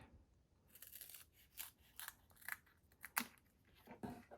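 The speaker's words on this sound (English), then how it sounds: "I'm just going to cut a skinny strip" Scissors snip a skinny strip of card in a quiet craft setting, giving a series of short crisp cuts in an uneven rhythm, close and fairly faint.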